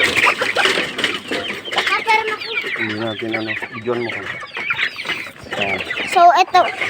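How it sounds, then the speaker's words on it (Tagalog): Chickens being fed cluck and chatter close by in busy, overlapping bursts, while a person speaks briefly among them. "So ngayon po guys, nagpapakain po kami ng mga manok."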